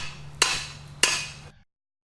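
Two sharp hammer blows strike a model tower top about half a second apart, each a bright metallic ringing impact that decays quickly over a faint steady hum, then silence.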